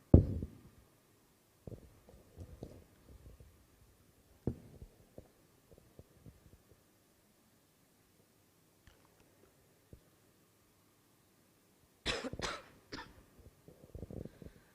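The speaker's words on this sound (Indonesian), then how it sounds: "Nah, teman-teman, maaf, saya memang agak sedikit batuk." A preacher coughs repeatedly during a live student worship service, with a strong burst at the start, scattered short coughs and throat sounds through the middle, and a louder cluster of coughs near the end, all fairly close with no talk.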